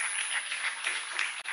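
A conference audience applauds a speaker, steady mid-level clapping from a moderate distance that stops abruptly near the end.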